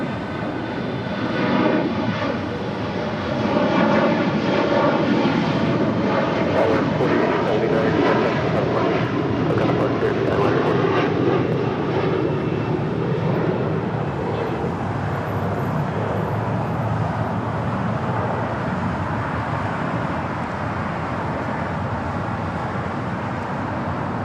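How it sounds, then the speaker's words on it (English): A KLM Boeing Dreamliner jet landing on runway 25 left at LAX, a loud sustained roar of jet engines swelling and holding steady as it passes nearby, with faint traffic noise beneath. "It's the KLM Dreamliner. About to touch down at 25 left."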